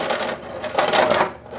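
Coins tumbling and churning inside a Nadex s540 coin sorting machine, a continuous close metallic rattling and clinking that swells and eases over a short stretch with no talking.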